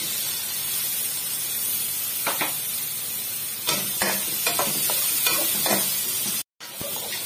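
Garlic fries in oil in a pan before tuna is cooked, a steady close hiss of sizzling with scattered stirring scrapes and a brief cut near the end, with no talking.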